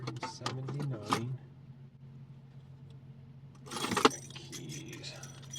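A bunch of keys jangles in two bursts, a short rattle at the start and a louder shake near the end, close to the listener with a low engine hum underneath and a voice briefly heard.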